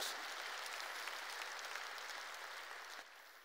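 Church congregation applauding during a Korean sermon, a steady wash of many hands clapping at once that holds evenly and then thins slightly near the end, with no voices over it.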